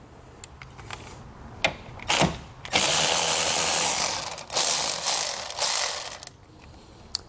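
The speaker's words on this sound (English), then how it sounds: "Now we want to remove the 12mm socket located right there on top of our battery." A ratchet backs off a 12mm nut on top of a car battery, sounding as a few quick clicks and then long, loud, rapid ratcheting bursts up close.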